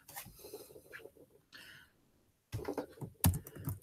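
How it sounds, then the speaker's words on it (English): Keyboard typing in short bursts of quick clicks, close up and moderately loud, with brief pauses between runs of keystrokes. "so you guys can see what I'm typing"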